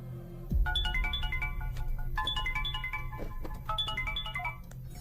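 A telephone ringtone for an incoming call chimes in repeated bright melodic phrases over a low, steady background hum, in a scene from a South Indian film. The ringing is clear and close, with no one speaking.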